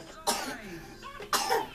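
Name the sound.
child coughing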